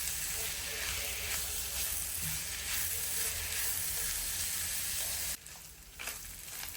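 Minced meat sizzles and fries steadily in a pan while being stirred, a dense close hiss with occasional scraping, briefly dipping near the end.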